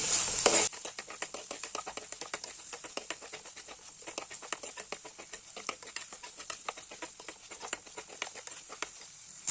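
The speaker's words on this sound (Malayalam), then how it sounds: "ഇനി നമുക്കിത് നന്നായിട്ട് മിക്സ് ചെയ്ത് കൊടുക്കാം എല്ലാം കൂടെ" Fish curry masala paste being mixed in a pan, a quick run of soft pattering scrapes and taps from a spoon over a faint sizzle, close and quiet, steady throughout after a brief louder knock at the start, with no talking.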